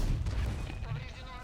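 Tank cannon fire in World of Tanks, a heavy low boom at the start with a rumbling decay and a second thump partway through, close and loud, with a voice briefly over it.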